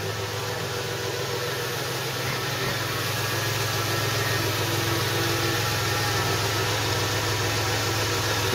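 A 1977 Honda-based small engine on a Rupp bike idles while warming up, with a steady, even mechanical drone and hiss that stays constant and fairly close.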